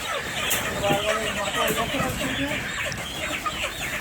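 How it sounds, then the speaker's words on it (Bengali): A flock of colour bird chickens cluck and squawk close by in a busy, overlapping stream of calls, with people talking over and between them. "জাহিদ মামা প্রস্তাব দিয়েছে যে একটা বাসার মধ্যে বিশটা মুরগি নিলে কি হয়"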